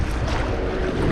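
Steady wind gusting over open sea during drizzly fishing from a boat, a continuous broadband rush with low rumble and buffeting against the microphone, no voices.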